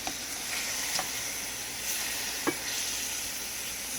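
Pierogies fry hard in a hot pan with bacon and onion. A loud, dense, continuous sizzle runs throughout, with a few faint taps and clicks. Nobody speaks.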